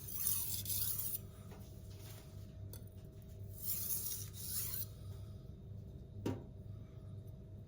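A knife edge is worked on a Venev resin-bonded diamond stone, F240 and F400 grit, to raise a burr: steady rasping strokes in bursts, near and quiet, with a brief sharper scrape late on.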